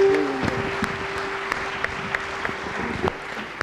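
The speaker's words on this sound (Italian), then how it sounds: "grande applauso ci vuole qua" Applause from a theatre audience at an amateur stage show, right after a performer is introduced with piano accompaniment. Steady, moderate clapping runs the whole time, with a sustained piano or keyboard note underneath and a few sharper claps standing out.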